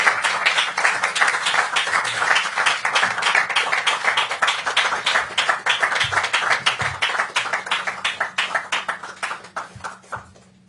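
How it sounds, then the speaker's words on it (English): Sustained round of applause from an audience honoring Nobel laureates at a Philadelphia event, dense steady clapping that holds throughout and thins slightly toward the end. "maybe we can give them one more round of applause"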